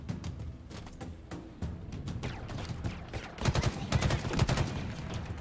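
Gunfire from the Halo campaign video game played on Legendary difficulty, with a rapid run of sharp shots that grows louder and denser toward the end.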